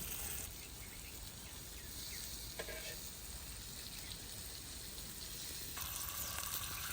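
Stuffed pomfret fish shallow frying on a tawa, a steady, even hiss of oil sizzling throughout, fairly faint and unbroken, with a couple of small clinks and no talking.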